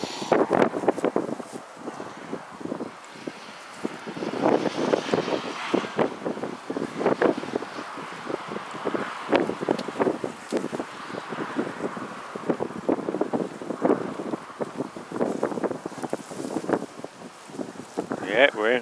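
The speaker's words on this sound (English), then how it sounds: "Proper windy, so we ain't picking up too much wind noise on the microphone." Gusty wind buffets a microphone at a Fenland riverbank while pike fishing, producing fluctuating rumbling bursts that come and go throughout, close and fairly quiet.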